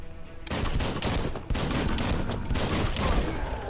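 Rapid gunfire from a weapon in the video game Biomutant bursts in after a short quiet start, a dense, loud stream of shots with a brief break midway, no talk over it.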